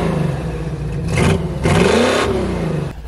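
A Jeep engine revs twice in quick succession, each rise swelling loud and close before dropping back to a rough idle, with a short clunk near the end.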